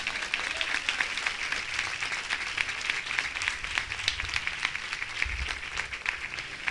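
Worshippers at an evangelistic church service clap together, a continuous crackling wash of many hands at moderate distance, alone without talk.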